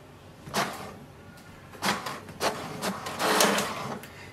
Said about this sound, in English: click the information button once and wait for the printer to print printer information page